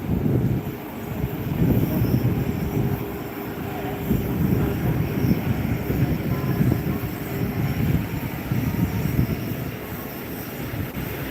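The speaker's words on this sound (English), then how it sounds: "Transavia just taxiing in there now." A Transavia Airbus A321neo airliner taxis at Gran Canaria Airport, its engines giving a steady low rumble that holds at a fairly even loudness throughout, with no talk over it.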